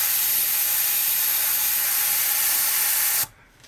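A model ship's shortened nozzle sprays at 30 psi, giving a loud, steady broadband hiss that runs unbroken for about three seconds, then cuts off abruptly, leaving near silence.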